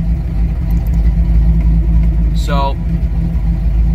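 A fully warmed-up car engine idles steadily with a constant low rumble throughout, while someone speaks briefly over it.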